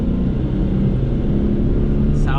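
Engine of a 2011 Tata Nano car running at higher revs, a steady droning rumble heard from inside the cabin, continuous and fairly loud throughout, with a brief brighter noise near the end.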